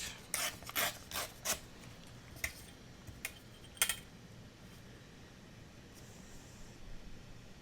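Paper torn by hand, a quick series of short close ripping bursts at first, then a few isolated tears spaced out over a quiet background.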